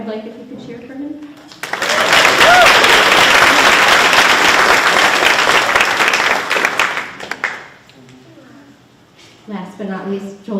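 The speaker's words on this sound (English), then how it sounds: "Eric Wagner is absent today, but I'd like if you could cheer for him." A school graduation audience breaks into loud applause and cheering for several seconds, fading out as an announcer's voice resumes; brief speech is heard before and after.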